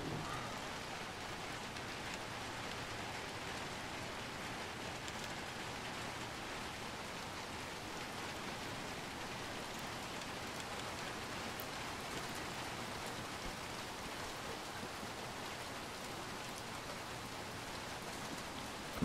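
Steady rain falling in the video game Little Nightmares 2, a constant soft hiss of drops on surfaces that stays even and unbroken from start to finish, with no talk over it.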